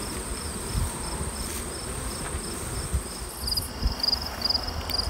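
Dense, steady buzzing of many honeybees around hives as bee escapes are fitted before harvest, a continuous insect drone with faint higher chirps layered over it.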